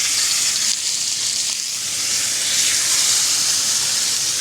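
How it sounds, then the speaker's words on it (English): Ribeye steaks at room temperature sizzle in a red-hot cast iron pan, giving a loud, steady frying hiss that holds without a break from start to finish. "But I'm going to drop these ribeyes on now."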